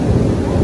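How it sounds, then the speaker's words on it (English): Low, dense rumble of thunder rolling through a rainstorm, steady and loud across the whole short stretch, with no voices over it. "We've got the thunder and lightning going on."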